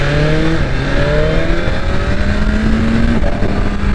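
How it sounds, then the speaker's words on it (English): A BMW S1000RR sport motorcycle engine runs loud and close, its tone holding steady with slight rises in pitch as it is revved; no distinct exhaust pops stand out. "The pops! Huh, the pops! I haven't heard the pops in a while."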